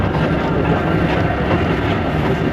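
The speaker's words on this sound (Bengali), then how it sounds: "পাশে লুপ লাইনে ঢুকে গেল ট্রেন করে।" A train running along rails while passing onto a loop line in the Snowdonia mountains, heard from on board as a loud, steady, broadband rumble and roar that stays constant throughout.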